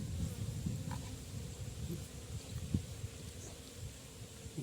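Honey bees buzz around freshly harvested honeycomb in the field, a continuous low droning hum with shifting swells as insects fly close past, no talking heard.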